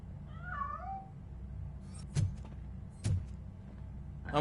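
A cat meows in RoboCop: Rogue City on PlayStation 5, a single clear meow near the start followed by two sharp knocks and a faint rising cry at the end.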